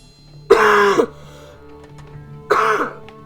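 Two loud, close bursts of coughing and throat clearing from one person, about two seconds apart, with quiet room sound between them.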